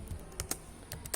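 Computer keyboard keys tapped while entering text into Microsoft Word 2007, a few sharp clicks in two short bursts with quiet pauses between, close and clear.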